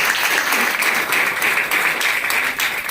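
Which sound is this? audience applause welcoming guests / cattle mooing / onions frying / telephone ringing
audience applause welcoming guests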